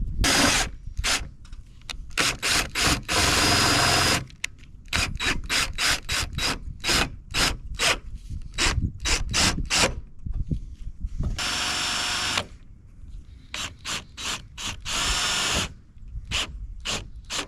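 Power drill driving 2-inch self-tapping screws into a camper roof, in rapid repeated whirring bursts with short pauses and a couple of longer sustained runs, close and loud, no talk.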